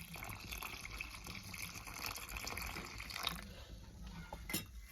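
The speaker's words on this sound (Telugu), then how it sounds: "ఇప్పుడు గ్లాస్ వాటర్ అనేది వేసుకుందామండి" A glass of water is poured into a mushroom curry in a cooking pot, a soft close splash and trickle of liquid lasting a few seconds.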